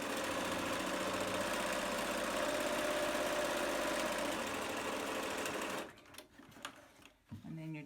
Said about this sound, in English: And then you're just going to come around and sew the other side as well.